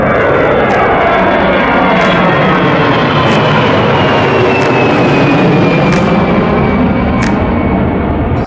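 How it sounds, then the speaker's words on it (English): A loud, close jet airplane roars continuously with a broad rumble and a high whining tone that slowly falls in pitch as it takes off, heard from Gravelly Point near Washington, DC. "at Gravelly Point watching airplanes take off"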